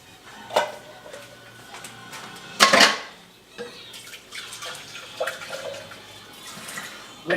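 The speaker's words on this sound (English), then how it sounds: "I'm going to put a tiny bit more of water in here, that way I can rinse it out and then put it in the can" Water splashes and sloshes into a can as salsa is rinsed out in a kitchen, with clinks of metal and short pours rising and falling close by.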